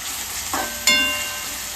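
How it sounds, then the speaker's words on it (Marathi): Powdered garam masala sautéed in a pan for prawn pulao gives a brief hiss and sizzle, with a couple of sharp stirring scrapes and clinks near the end. "आता हे सगळं परतून घ्यायचं."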